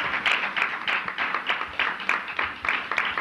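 Audience at a legacy project update meeting claps in a steady, fairly quick rhythm, close and continuous for a few seconds with no voices on top.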